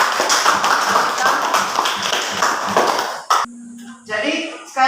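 A high school class in Indonesia applauds itself: a few seconds of lively group clapping that stops abruptly, followed by brief taps and faint room sounds.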